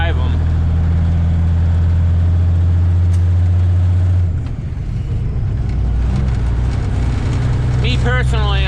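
An old diesel engine idles at a steady, deep rumble in a cold winter setting, close and loud throughout, with a brief dip midway; a person talks over it.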